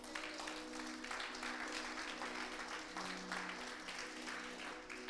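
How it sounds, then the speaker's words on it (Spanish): A church congregation applauds during a Spanish-language gospel sermon, steady dense clapping filling the whole stretch at moderate level, with a faint sustained tone humming underneath. "Denle un aplauso."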